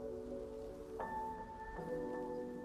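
Soft, steady rain ambience on a spring day, a faint even hiss of falling drops with gentle sustained tones drifting over it, quiet and continuous throughout.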